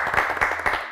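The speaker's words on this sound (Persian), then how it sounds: "تشویق کنین تمیم جان را" Studio audience applause on an Afghan quiz show, a dense steady patter of many hands clapping at moderate loudness with no talk over it.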